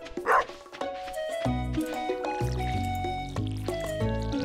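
A dog in Stardew Valley gives a single short, bright bark near the start, followed by game music with steady tonal notes and a soft liquid fill sound.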